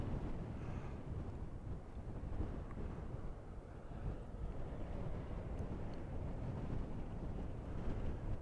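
Steady wind on Mount Teide, Tenerife, roars against the microphone in a continuous low rumble, loud and unbroken throughout, with no voices.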